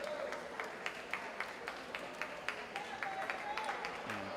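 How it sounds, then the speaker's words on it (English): A crowd cheers and claps for a swimmer in lane 2 at a high school league swimming championship, steady indoor cheering with rhythmic clapping and whistles, while an announcer talks over it. "cheering on their swimmer in lane 2"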